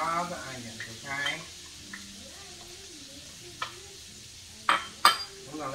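Onions go into melted butter in a pan for chicken enchiladas, giving a low sizzle under a person talking, with a few sharp utensil clicks and scrapes near the end.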